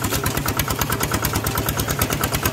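A ZT155-engined motorcycle in first gear idles steadily up close, its rapid, even low thump running throughout at a constant loud level with no talk.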